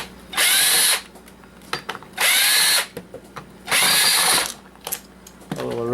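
Power drill backing screws out of a cheap coffee maker, three loud whirring bursts of about a second each, separated by small clicks and handling noises, close to the mic.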